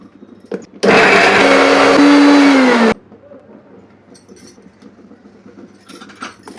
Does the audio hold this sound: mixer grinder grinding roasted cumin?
yes